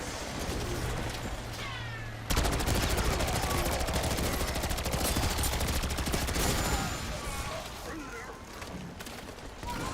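Sentry turret blasting away at zombie hordes in a level 30 video game match, rapid sustained gunfire bursts rattling loud and continuous over a dense backdrop after a sudden start.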